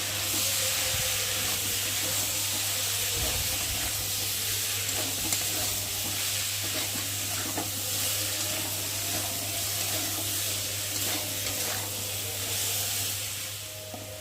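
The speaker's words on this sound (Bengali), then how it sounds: "তারপরে দেবো ভেজে রাখা চিংড়ি মাছগুলো দিয়ে ভালো করে কষিয়ে নেব" Spices with salt and turmeric being sautéed in oil together with pre-fried prawns for a pumpkin curry; a continuous close sizzle and hiss with occasional stirring scrapes and clinks, no voices.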